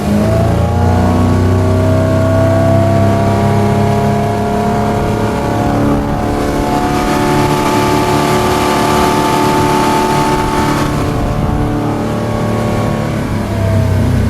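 2006 Bayliner 175 boat with a 3.0 engine throttling up, a loud sustained engine roar with rising harmonic tones, heard close and steady without talk.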